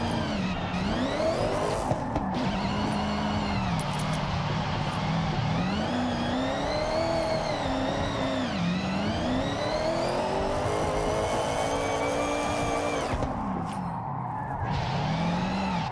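Forza video game car drifting under wheel-and-pedal control, with a continuous engine note that rises and falls over long sweeps and sustained tire squeals and skids as the car slides through corners, loud and close, with no talking.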